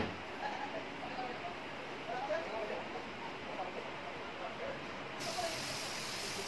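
A spray gun set fully open lays down base color paint on a Vespa scooter panel, giving a steady, continuous airy hiss that runs unbroken and close throughout.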